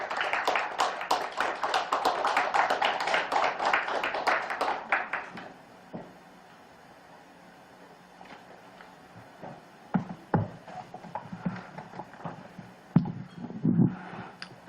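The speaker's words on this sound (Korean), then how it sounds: "자, 뜨거운 박수 부탁드릴게요." A crowd at an indoor children's rights forum gives warm applause that lasts about five seconds, then cuts off into a quiet room with a few scattered bumps and taps.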